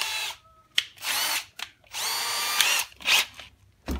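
Power drill bursts as a larger bit enlarges a hole in a full face mask for mounting lights, several separate high whining runs of varying length with short gaps, close and loud, no talking.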